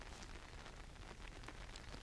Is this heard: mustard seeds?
no